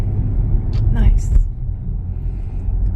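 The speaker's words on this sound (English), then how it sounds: "It didn't go around that pothole, which I would have gone around it. But it took that pothole pretty well" A Tesla Model Y rolls over a pothole, giving a low road rumble with a brief thudding bump partway through, while a voice is briefly heard over the steady cabin drone.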